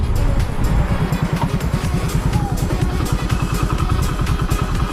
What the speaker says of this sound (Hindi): आगे से गाड़ी आ रही है, गाड़ी आ रही है